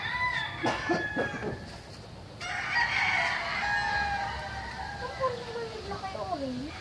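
A rooster among derby stag chickens crows once in a long rising then falling call, fairly near, followed by clucking and farmyard bird sounds, with a person speaking briefly before the crow.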